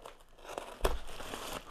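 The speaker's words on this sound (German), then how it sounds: "Oh, jetzt habe ich in die Tüte geschnitten." Scissors cutting into a plastic bag while unpacking a Hello Fresh meal kit box, giving a short sharp crinkle and snip near the end after faint rustling.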